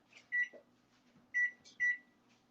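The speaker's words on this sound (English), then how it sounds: "we're gonna have to turn the microwave on for that, so it'll be a little noisy for a second" A microwave oven in a home kitchen, heating food while a sausage and rice skillet is cooked, gives three short, clear electronic beeps over a faint, steady running hum.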